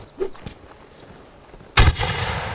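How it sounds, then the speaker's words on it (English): A sharp, booming gunshot cracks out in a Mount and Blade North & South mod line battle, preceded by faint distant pops and trailing into a rolling echo. "here the reports of the rifle making their way over"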